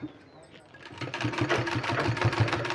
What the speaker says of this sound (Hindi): अब हमको इस तरह से इसको सीधा करके और यहाँ सिलाई लगा देना है, इस तरह से।